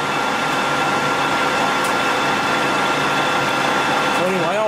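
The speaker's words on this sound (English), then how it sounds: "Approximately 2 millimeter cut on the diameter, and it's just peeling off like butter" Steel T-bolt being turned on a lathe for a Hornsby oil engine, a steady loud machining drone with a deep cut on the diameter, continuous and even throughout with a faint rising whir near the end.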